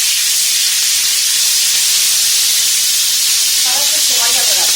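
Chicken pieces for paella sizzling in hot oil over lowered heat, a loud steady hissing spatter filling the whole stretch with no pauses.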